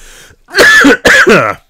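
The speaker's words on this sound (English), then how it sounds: "I seem to have spent most of these videos coughing" Two harsh, loud coughs in quick succession, close by, after a brief quiet moment.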